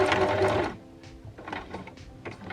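Sewing machine running hard for under a second, then stopping, followed by soft clicks and fabric handling as the stitching is finished off at the corner of a seam.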